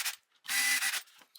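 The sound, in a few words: screws being driven into a transmission cover plate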